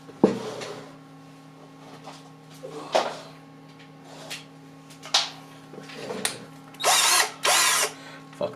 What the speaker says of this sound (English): I was charging my power drill, and we're going to actually test this motor